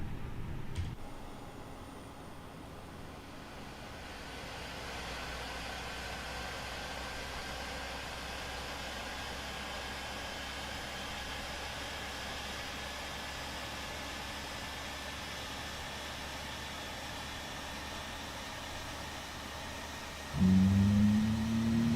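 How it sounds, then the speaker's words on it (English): An Airbus A320 engine spools up during start in Microsoft Flight Simulator 2020, a steady whining and rushing drone that builds and holds, with a louder low thump near the end. "Oh, listen to those engine sounds."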